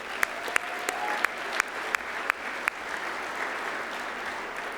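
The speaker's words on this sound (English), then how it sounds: "So one more applause for Trace3." Applause at an award acceptance speech, a broad, steady roar of many hands clapping, with one nearby clapper's sharp, evenly spaced claps standing out over the crowd during the first seconds.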